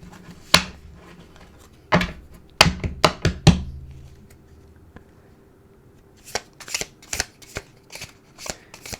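A big double deck of tarot cards is shuffled in several crisp, snapping bursts, with quieter riffling and tapping between them.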